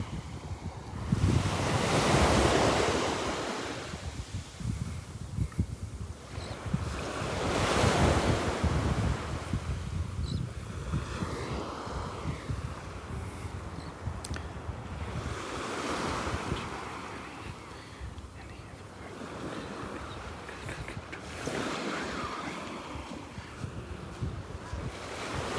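Ocean waves roll onto the beach at Delnor-Wiggins with rhythmic surges of surf every several seconds, mixed with gusty wind buffeting the microphone, continuous and fairly close with no talking.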